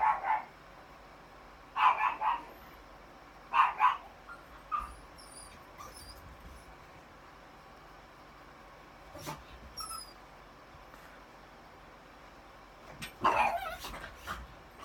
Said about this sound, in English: that's my dog. She's having a fit.